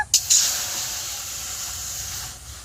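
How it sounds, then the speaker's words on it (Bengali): Water hitting a hot wok after semolina was toasted in it, with a couple of sharp spits at the start and then a steady, loud, close hiss of steam that slowly fades, with no talking. "আবার কড়াটা বসিয়ে দিয়েছি, এবার কড়ার মধ্যে জল দিয়ে দেব"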